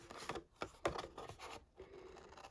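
Paper snips cut through card stock in a series of short crisp snips and scratchy rasps, close and quiet, with no talking.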